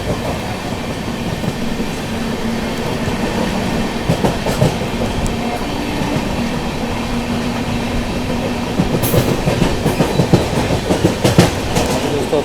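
The Mahabodhi Express from New Delhi to Gaya rolls into a station with steady rumbling and rhythmic wheel clatter, close and loud, with sharper clanks and squeals toward the end.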